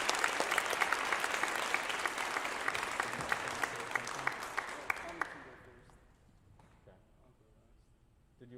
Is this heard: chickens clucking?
no